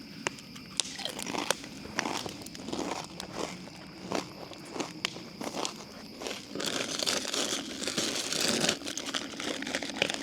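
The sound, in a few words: chewing chips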